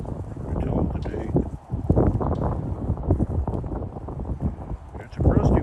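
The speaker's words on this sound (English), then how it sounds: "Yeah, it's still windy." Steady wind gusting outdoors on a blustery West Coast day during metal detecting, a broad rumbling roar buffeting the microphone throughout, rising strongly near the end, with no voices.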